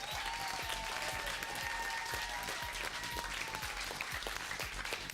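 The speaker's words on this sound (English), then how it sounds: "give a big round of applause" Audience applause at a high school quiz bowl match, a steady, full round of clapping that sounds somewhat distant and stays even throughout.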